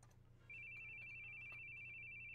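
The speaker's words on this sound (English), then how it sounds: "phone is going off" A phone rings with a steady, high electronic tone that starts after a brief pause and continues unbroken against a quiet indoor hum.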